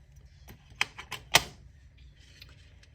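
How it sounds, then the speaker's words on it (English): Scissors snip through doubled bracelet cord, a few sharp close clicks in quick succession, the loudest near the middle, over a quiet room. "I'm going to cut this in half."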